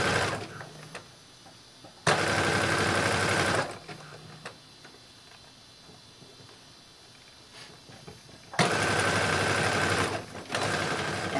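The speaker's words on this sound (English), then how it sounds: "And then I zigzag stitch to reinforce" A sewing machine runs a zigzag stitch on a swim dress in two loud, steady bursts of rapid mechanical whirring, separated by a quieter stretch of faint handling sounds.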